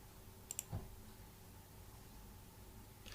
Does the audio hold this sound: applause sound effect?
no